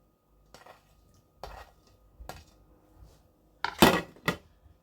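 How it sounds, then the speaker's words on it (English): Spoon stirring chopped ham through a mixture in a pot gives a few separate scraping clinks against the metal, spaced apart, with a louder cluster of knocks near the end. "we'll stir through some chopped ham"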